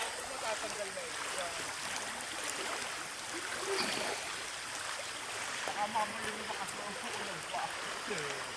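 Fast floodwater current rushes past during a waist-deep river crossing, a steady hissing wash of water heard throughout with faint voices beneath.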